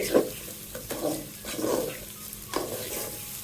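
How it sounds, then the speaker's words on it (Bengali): Rice being fried in a pan with oil for a soybean pulao: several scraping stir strokes roughly every half second over a steady low sizzle, close by, with no talk. "এগুলো আমি চালগুলা বেজে নিচ্ছি।"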